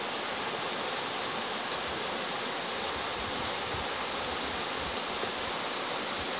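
Rushing river rapids, swollen after heavy recent rain, roar steadily and loudly throughout, a dense, unbroken wash of turbulent water with no voices.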